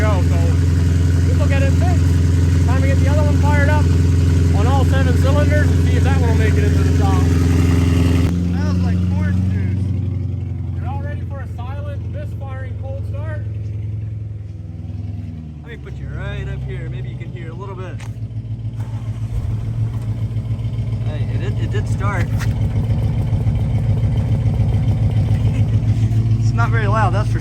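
An Audi A8 engine runs in snow, a steady low droning hum that sits loud and close, with a shift in tone partway through as the car moves; people talk over it throughout.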